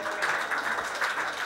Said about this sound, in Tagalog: Salamat sa malambot na palakpak.